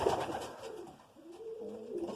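A pigeon coos softly and close by in a pigeon loft, a low throaty warble rising and falling twice with a brief pause between.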